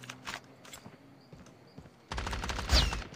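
Scattered distant shots give way to a louder burst of rapid gunfire in Call of Duty mobile, crackling and dense, with no speech.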